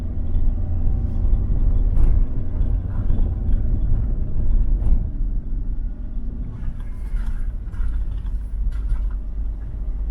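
A family car on a village road near a dam, with a first-time driver behind the wheel, gives a continuous low engine and road rumble inside the cabin, with faint rattles and some wind buffeting.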